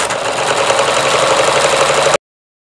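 A sewing machine running steadily as it stitches straight seams along quilt strips for a baby quilt, a close, continuous humming whir that cuts off abruptly after about two seconds.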